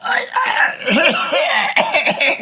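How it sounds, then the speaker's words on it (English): Several rough, raspy coughs and throat-clearing sounds come in quick succession, fairly loud and close. "She was coughing right in that same time period, like away from the mic."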